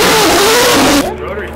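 Ford Bronco with an 8-to-1 style rotary-fire header revving hard, a loud, rising engine roar that cuts off abruptly after about a second, leaving a lower idle with voices talking over it.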